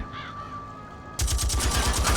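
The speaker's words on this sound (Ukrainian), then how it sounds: "ми можемо хоча б з кулемета постріляти в них" Machine gun fire in the video game The Saboteur. A rapid, loud burst of shots begins after about a second of quieter background and continues as a steady stream of rhythmic reports.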